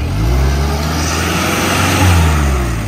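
Mahindra Scorpio 4WD engine revs hard during an off-road test as the vehicle swings around: a loud, close, sustained motor drone that swells slightly near the end.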